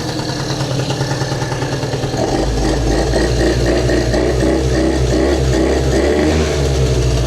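A scooter engine, just back running after an electric starter repair and smoking heavily, runs loud and close with a steady buzzing drone that rises in speed partway through and then holds at a high idle.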